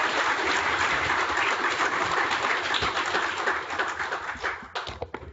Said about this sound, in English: the first incident of completely spontaneous applause during a talk